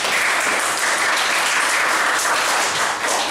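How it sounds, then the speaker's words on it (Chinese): An audience gives warm applause to welcome a guest speaker at a talk on Taiwanese history, a dense, even roar of clapping that stays strong throughout with no talk over it. "然后大家热烈掌声一下。"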